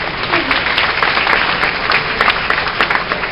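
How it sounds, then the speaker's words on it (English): Sustained audience applause for a speaker at a wedding celebration, steady dense clapping throughout, loud and close with no talk over it. "Give her a round of applause."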